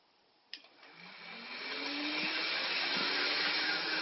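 A motor shaft spins up during a Mazda MX6 repair, starting with a click and rising into a steady, loud whirring whine that holds constant.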